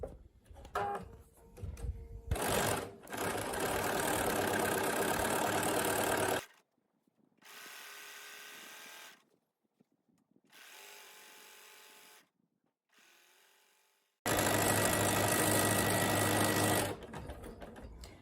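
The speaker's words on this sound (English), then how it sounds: "Right sides together, 1/4 inch foot, so I'm accurate with that, and we're off to the races." Sewing machine chain piecing jellyroll fabric strip sets with a quarter-inch foot, running in long steady bursts with short quiet pauses and softer stretches between, no talking.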